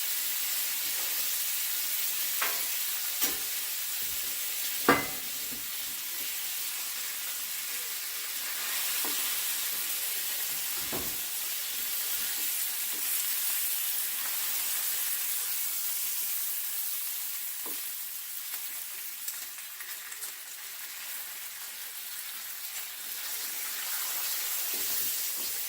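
Bacon frying in a pan for smashburgers, giving a steady, even sizzle and hiss throughout, with occasional small pops and spatters close by.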